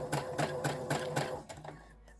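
Sewing machine stitching a tote bag toward a corner, with a close rhythmic run of about six regular thumping stitch beats that slows and stops.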